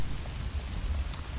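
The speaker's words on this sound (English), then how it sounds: "And it's also raining" Steady rain in the stealth game Hitman: Blood Money, falling on a rooftop at night as a dense, continuous patter with a low rumbling undertone, heard alone.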